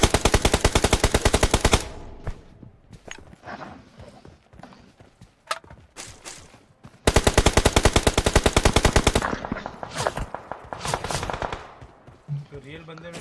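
Rapid automatic gunfire bursts in a mobile shooter game, two long loud strings of shots with scattered single shots and quieter gaps between them, while a player talks over the action.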